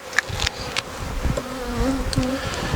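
Honeybees buzz around an opened hive as the inner and top covers go back on, a steady close hum with a few sharp knocks and thuds.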